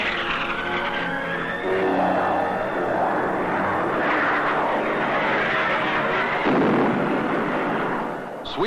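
American and Vietnamese military aircraft sweep low over the Dong Hoi area in wartime, a loud sustained roar that rises and shifts in pitch as the planes pass overhead, with no talk.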